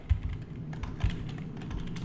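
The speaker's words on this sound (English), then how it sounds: "Now if I type people lookup" Close, quick computer keyboard keystrokes tap out a short burst of typing, with a couple of heavier thumps among the lighter clicks.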